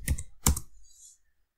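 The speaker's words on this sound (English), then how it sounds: "again you can type ID Rakesh." Two quick clusters of keystrokes as a command is typed on a computer keyboard, close and fairly quiet, with silence after.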